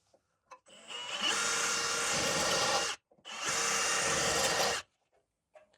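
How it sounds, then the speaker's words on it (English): Two bursts of spot welds being drilled out of a Ford Festiva core support: loud, steady, high-pitched power-drill whine, each lasting about two seconds with a brief gap between, close by and alone. "Those are the two spot welds I just drilled."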